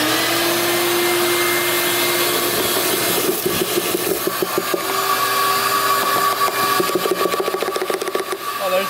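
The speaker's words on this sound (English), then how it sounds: "we're gonna vacuum that out quick" A vacuum cleaner roars steadily and loud throughout, cleaning a rat's nest out of a trashed Yamaha Warrior 350 ATV, with scraping and rubbing as the nozzle works against plastic and debris in the second half.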